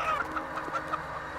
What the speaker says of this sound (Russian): Слышу куру.